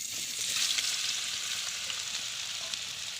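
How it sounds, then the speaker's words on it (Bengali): Raw crushed elephant apple (chalta) pieces fry in hot oil in a wok, giving a steady, bright sizzle that holds without break throughout, with no talking. "তেল গরম হয়ে গেছে, আমি এবার চালতাগুলো দিয়ে দেবো ভিতরে।"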